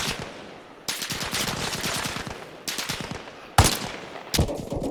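Enemy soldiers firing in the military game Arma Reforger: dense rattling bursts of automatic gunfire starting near the one-second mark, with sharp louder single shots cracking out near the end.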